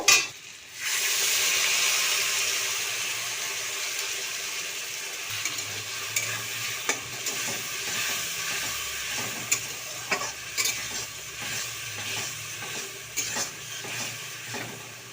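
Spice paste frying in a pan for a vegetarian paneer curry, a steady hiss of sizzling oil with repeated scraping and tapping as a spoon stirs it, close and continuous throughout.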